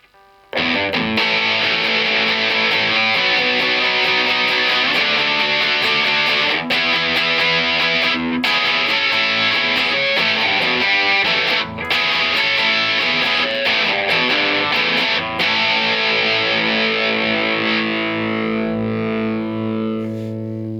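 An electric guitar plays through a Fender Tone Master Deluxe Reverb amp set for distortion, loud sustained chords that ring on steadily and fade near the end.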